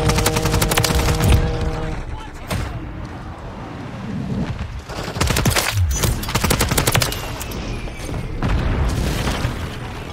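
Call of Duty MW3 gunfire in bursts of rapid automatic shots and heavy booms, loud and dense, with a quieter lull in the middle before the firing resumes.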